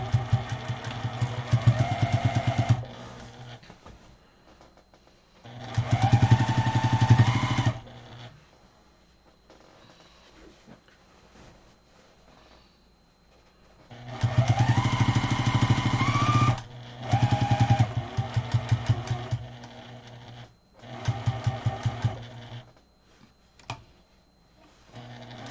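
A Juki 2010Q sewing machine stitches a quarter inch seam on a fabric dust cover in several bursts of fast, steady mechanical whirring, with quiet pauses between runs.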